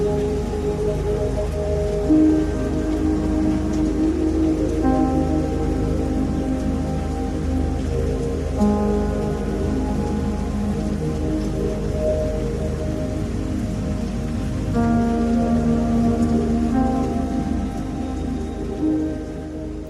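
Steady rain falling on a surface for a full stretch, a constant close hiss with droplet patter, while soft music-like tones drift underneath; no clear thunder stands out.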